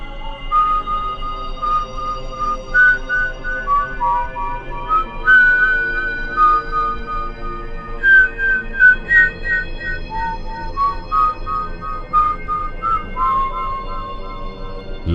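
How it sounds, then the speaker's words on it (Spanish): A thin, wavering whistled melody drifts in slow, drawn-out notes over a faint low hum, lingering and eerie with no speech. "en las calles se escuchaba aquel silbido"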